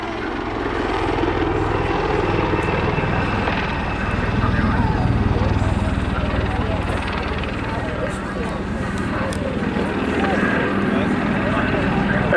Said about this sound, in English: As the aircraft now comes round into its final stages of its manoeuvres, it'll do the tight turn to the right